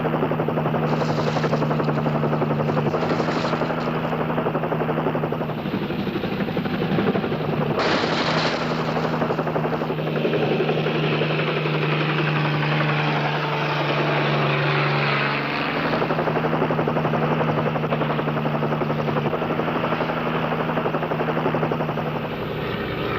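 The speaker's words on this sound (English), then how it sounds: "The helicopter made another turn and came in with my improvised supply base." A helicopter flies overhead and turns, its rotor chopping and engine roaring loudly and continuously, the pitch shifting as it passes and banks, with no talk.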